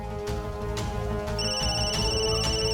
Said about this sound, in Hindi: ए फोन तेरा फोन बजा, फोन।